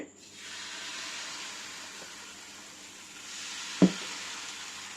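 Dosa batter poured onto a hot pan sizzles in a steady, close hiss that swells slightly as more batter spreads, with a single sharp knock near the end.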